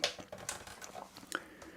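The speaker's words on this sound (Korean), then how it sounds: "이 키보드 빨콩 뭐 정말 유명하죠 지금 눌러봐도 쫀득쫀득하고 키보드 감은 좋습니다" Keys clack on the keyboard of an old IBM ThinkPad X60 laptop, a quick irregular run of soft, close taps.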